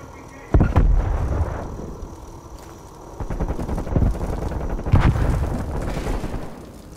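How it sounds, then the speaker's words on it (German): Enemy artillery fire in Call of Duty Black Ops Cold War: heavy booming impacts land at about half a second and again near five seconds, each with a rumbling tail, over a continuous low battlefield roar. "Feindliche Artillerie."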